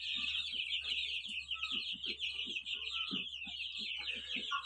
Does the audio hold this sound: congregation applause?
no